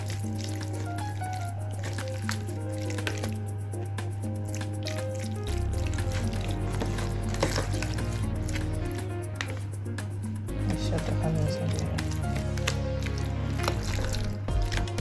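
Wet squishing and dripping as seasoned salmon is mixed with salt, soft and close, with a steady hum of background music throughout.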